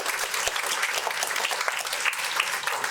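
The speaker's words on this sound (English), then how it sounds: "So a round of applause." Audience at a faith-based school community gathering applauds, a dense, even patter of many hands clapping at moderate volume throughout, with no voices over it.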